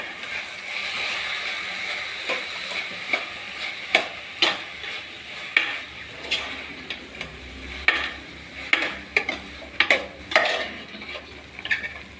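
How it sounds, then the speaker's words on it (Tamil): A fruit and apple mixture stirred in a pan for a festival sweet, with steady sizzling and a string of scraping, clacking utensil strokes that grow more frequent toward the end. "நல்லா மிக்ஸ் பண்ணி விடலாம்."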